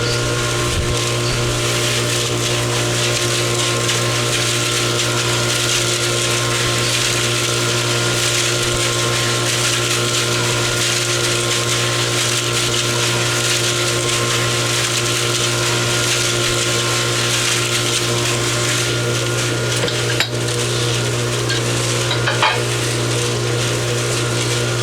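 A concrete mixer churns a batch of concrete for statues with a loud, constant mechanical drone and steady hum, unbroken for the whole stretch, with only a couple of faint knocks near the end.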